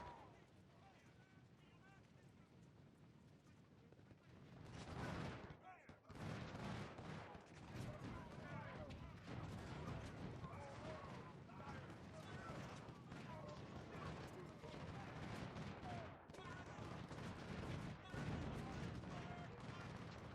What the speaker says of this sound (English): somebody really is just firing volleys into him